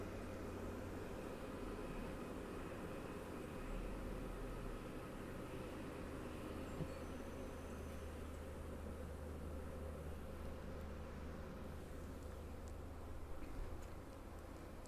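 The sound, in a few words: honeybee swarm buzzing around laundry basket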